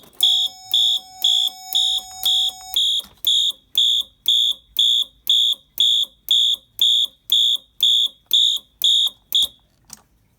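Fire alarm system under test sounds a fast march pattern, about twenty shrill, evenly spaced electronic horn pulses, loud and close, with no talk.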